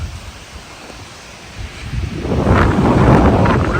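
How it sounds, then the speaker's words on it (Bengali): Storm wind roars up after a quieter start, building into a loud, broad gusting rush in the second half, blowing hard outdoors as rain begins. "দেখতে দেখতে ঝড় শুরু হয়ে গেছে"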